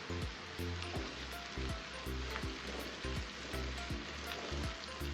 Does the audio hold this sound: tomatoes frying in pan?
yes